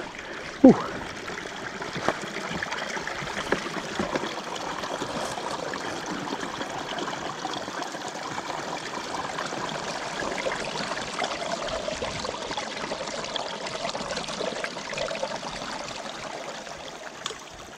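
A small burn trickling down behind a campsite in the Scottish wilderness, a soft continuous babble of running water with faint gurgles, steady and fairly close, with a couple of light knocks near the start.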